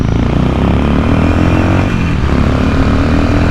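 A Harley-Davidson Sportster 1200 motorcycle runs at wide open throttle, its loud, steady engine roar filling the whole clip up close with no talking.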